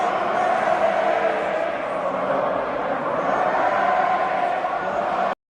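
A large wrestling arena crowd chants in a steady, dense roar that holds at an even level throughout and then cuts off abruptly.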